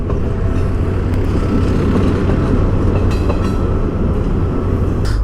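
A train rolls along an elevated track near an expressway connector, a loud, steady rumbling roar with faint rhythmic clatter, continuous and close, no voices over it.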